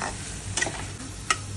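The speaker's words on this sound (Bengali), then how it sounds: "একটু হিটটা বাড়িয়ে ভাজা ভাজা করলাম" Sponge gourd curry with poppy seed fries in a pan over raised heat, a close steady sizzle broken by a few quick scraping stir strokes, with no talking.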